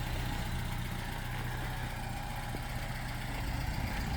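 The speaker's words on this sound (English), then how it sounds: "It's got that iconic French engine ticking sound" A Peugeot 207 engine idles steadily with a faint, fast ticking running through the low rumble, continuous and close, with no talking.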